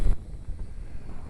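Wind at about 7 to 11 mph buffets the microphone outdoors while a Blade mQX quadcopter is flown. A brief, rough low rumble gusts in and out.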